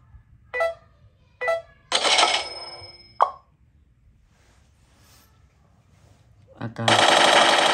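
Several sharp game-style shots pop in quick succession from a gun in a mobile video game, followed by a longer burst of synthetic firing, with cartoonish electronic effects between them.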